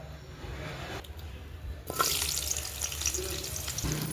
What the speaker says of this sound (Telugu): నూనె కూడా వేడైపోయింది ఫస్ట్ ఉల్లిపాయలు వేసుకుందాం